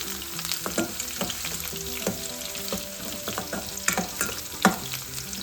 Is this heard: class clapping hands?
no